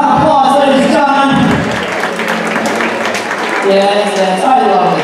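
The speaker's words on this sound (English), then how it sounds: "Give her a round of applause, ladies and gentlemen." Audience applause at a spring concert, steady dense clapping across the hall with voices and cheers rising over it throughout.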